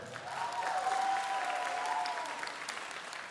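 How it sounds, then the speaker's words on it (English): Audience applause for a violinist who is a longtime music teacher, at a foundation event; steady clapping from a crowd with a faint sustained tone running beneath it, lasting a few seconds. "Let's give her a round of applause for that."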